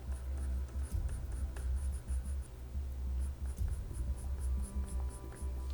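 Brown colored pencil drawing hair strands on paper, a steady scratchy scribble of short repeated strokes close by, alone without talk.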